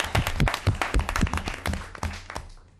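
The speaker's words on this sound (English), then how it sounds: "Let's cheer again." A council-meeting audience claps and cheers for an Oklahoma team: a few seconds of brisk, close, uneven clapping that thins out and fades at the end.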